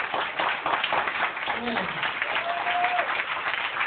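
A church congregation at a prophetic deliverance gathering applauds steadily throughout, a dense wash of clapping mixed with voices and a brief spoken word.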